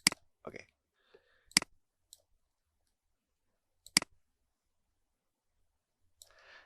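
A computer mouse clicks a few times while charting lines in Microsoft Excel: four sharp, quiet single clicks spaced irregularly across otherwise near-silent desk sound.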